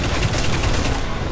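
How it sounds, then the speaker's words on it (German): A Kabal ship in Destiny fires on players, producing a dense, rapid, rumbling barrage that runs loud and unbroken for the whole brief moment. "Ja, die schießen mit dem Schiff auf uns."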